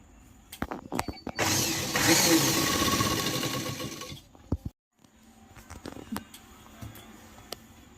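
A sewing machine runs stitching a petticoat hem, starting with a few clicks, then a steady whirring mechanical run for about two seconds, a brief stop, and softer intermittent clicks and taps afterward.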